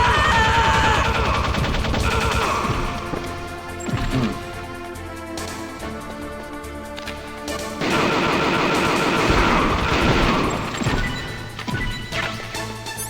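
Gunfire in Metal Gear Solid, rapid loud bursts and crashing impacts over a dense game soundtrack, easing off midway and then returning at full strength.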